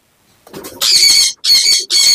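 Breeder birds squawk in harsh, loud bursts close by in a breeder section, three strident calls following some brief low rustling.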